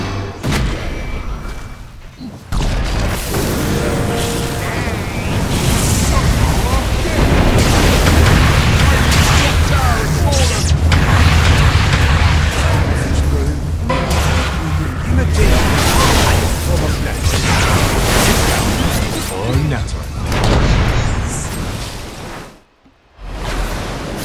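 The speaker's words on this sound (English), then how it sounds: "Radiant's top tower is under attack." Explosions and booming impacts from a Dota 2 match as a tower comes under attack, dense and loud for most of the stretch, mixed with game music and effects, then briefly cutting out near the end.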